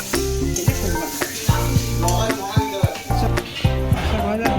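Jute leaf saag sizzles in a frying pan while it is stirred, giving a steady close hiss broken by scraping stirs, with tonal, music-like sounds and a voice in the background.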